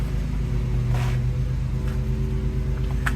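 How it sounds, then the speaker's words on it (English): A neighbor's lawn mower hums steadily in the background while grass is cut, a constant low drone with no other sounds over it. "my neighbor's cutting the lawn here. It's going to get noisy."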